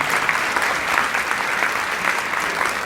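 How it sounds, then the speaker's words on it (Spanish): Audience applause during a lecture, dense continuous clapping from a room full of people, steady and fairly loud from start to finish with no voices over it. "si den un aplauso a Jesús"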